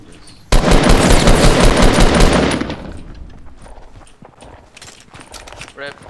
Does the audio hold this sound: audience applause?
no